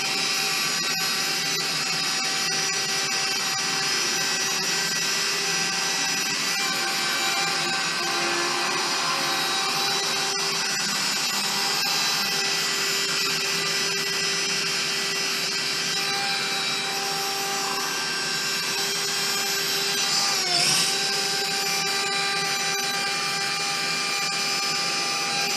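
A rotary tool spins a rough abrasive pad against the face of a wheel hub on a 2013 Ford Expedition, a steady, close, high-pitched whir with grinding texture that holds for the whole stretch, briefly bearing down near the end.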